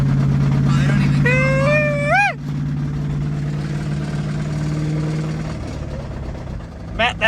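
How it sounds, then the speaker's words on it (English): A Ford Mustang 2V engine idles with an exhaust leak, a steady low droning rumble held close throughout while voices talk over it. "Pretty sure it sounds like an exhaust leak"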